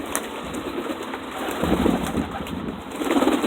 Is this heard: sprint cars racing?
no